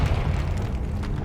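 A Confringo fire-spell explosion in the Hogwarts Legacy video game, a short, loud, rumbling boom with heavy low-end that rolls on steadily for about a second without any talk.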